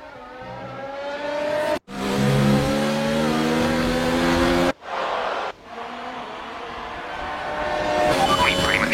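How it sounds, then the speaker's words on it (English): Race car engine on the final lap, a loud sustained high-pitched whine that climbs through gears, cut by abrupt shift breaks, then builds again toward the end. "This is your final lap of the race."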